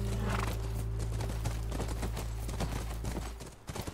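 Horse hooves clip-clop in The Last of Us video game, a rapid, steady clatter under a dense, loud rumble of background sound, ending in a few irregular knocks.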